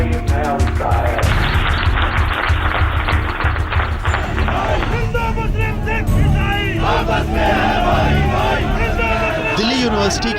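Students clap and shout in protest outside the Arts Faculty of Delhi University, a dense, continuous crowd roar with chanting voices and scattered claps throughout.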